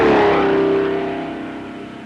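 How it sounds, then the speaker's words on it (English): Race car engine in the 1994 3DO game The Need for Speed: a steady, tonal engine drone that starts loud and close, then fades gradually over about two seconds, with no talking. "You actually hear the cars approaching you from behind, and the sound gets louder as they get closer."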